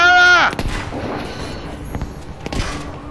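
A grenade explodes in a Battlefield V war match, one loud booming blast right after a tonal sound, followed by a rumbling tail and a few further thuds.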